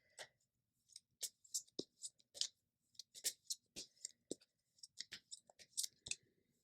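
Tarot cards being shuffled by hand: quiet, crisp snaps and clicks of cards sliding and tapping together, coming in irregular close-up bursts separated by brief silences.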